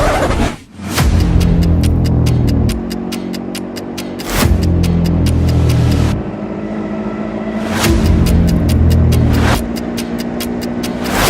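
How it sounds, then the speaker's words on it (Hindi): Mid-range car engine droning at a steady roar with repeated surges of revving, each lasting a few seconds, loud and close throughout, with no talk over it. "भैया गाड़ी क्यों नहीं भगाते? गाड़ी भगाओ।"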